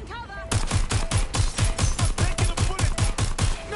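Rapid gunfire in the video game Watch Dogs Legion, a loud steady burst of evenly spaced shots that starts abruptly after a brief pause and keeps firing without a break.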